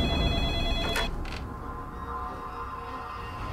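A telephone rings down the line in a film trailer, a faint electronic ring tone heard in the first second or so before fading under a low background rumble.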